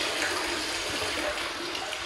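Water rushes steadily into a plumbing storage tank through a float valve, a loud, continuous hiss of flow filling the tank with no pauses.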